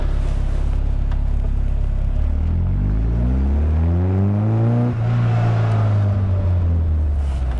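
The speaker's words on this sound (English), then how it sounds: "Accelerates up in fifth gear." An Indy RX-5 160 kit car on its first drive, its engine rumbling close and loud as it accelerates through the gears, pitch rising steadily with a brief shift, no voices over it.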